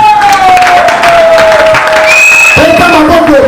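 Church congregation cheering and applauding for Jesus during a pastor's sermon, a loud continuous crowd roar with claps and shouts, a sustained tone running through and a voice rising above the crowd.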